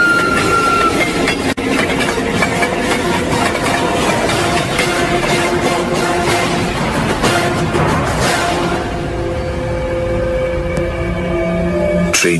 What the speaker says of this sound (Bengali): তারপর মাটি কাঁপিয়ে ট্রেনটা আমার পাশ দিয়ে এগিয়ে যেতে থাকলো।